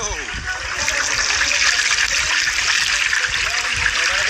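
Salted water poured over a full-grown piglet being prepared for deep frying, a steady loud hissing splash running close and continuous for several seconds while someone talks.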